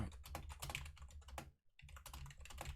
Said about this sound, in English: Why am I typing this out, dude?